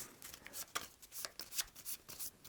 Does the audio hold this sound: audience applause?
no